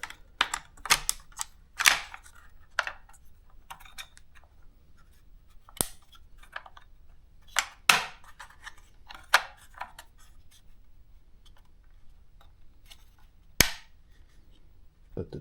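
Parts clicking and snapping while a trigger slides into a Strike Industries PS90 chassis, a series of sharp, scattered plastic and metal clicks with quiet pauses between them, close up, with no talk.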